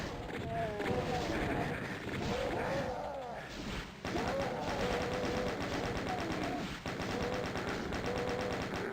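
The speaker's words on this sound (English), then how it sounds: "I got chain gunners on every side of me putting bullets up my asshole." Chaingunner rapid-fire gunfire in the video game DOOM 2 rattles from several sides at once, with dense bursts of shots mixed with game effects, loud and continuous apart from a brief dip.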